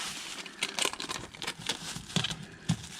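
A plastic bag crinkles and rustles in short, irregular squeezes, quiet and close, with scattered crackles and brief pauses between them.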